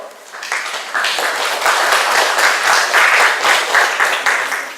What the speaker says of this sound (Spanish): Palmas para él, por favor.